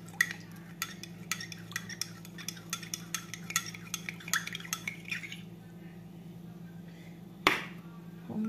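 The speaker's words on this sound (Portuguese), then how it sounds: "Mexe mais um pouquinho aqui" A spoon stirs a green coffee pre-workout drink in a glass, making rapid, rhythmic clinks against the side for about five seconds before stopping, followed by a single sharp knock near the end.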